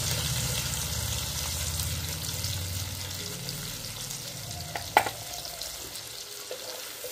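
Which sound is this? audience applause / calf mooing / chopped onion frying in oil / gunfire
chopped onion frying in oil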